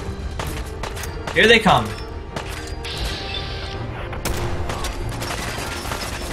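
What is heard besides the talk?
enemy gunfire in the Fallout 4 video game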